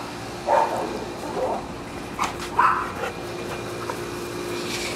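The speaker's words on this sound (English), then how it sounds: "Here is Callie, our Rottweiler" A Rottweiler gives a few short yips and bark-like whimpers outdoors on a nice day, moderately close, spaced over several seconds above a steady background hum.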